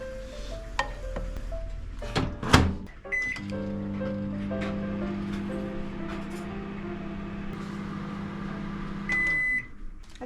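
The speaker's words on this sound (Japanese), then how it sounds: "電子レンジ借ります。" A microwave oven at a campsite beeps a few times at the start, then hums steadily while running, and a final series of beeps sounds near the end; the sound is fairly quiet and close.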